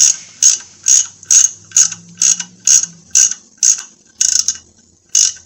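Ratchet wrench turning on the oil filter housing of a 2015 Chrysler Town & Country, a crisp close series of about a dozen evenly spaced ratcheting clicks with a faint low hum beneath.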